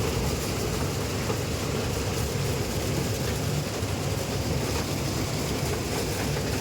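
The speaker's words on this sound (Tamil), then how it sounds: "இங்கே பாருங்க RPM பாருங்க. நம்ம வண்டி எதுக்கும் அசராது 63 HP." A 63 HP farm harvester engine runs steadily under heavy load while its cutter bar works a full crop, giving a dense, constant droning roar with no pauses or voices.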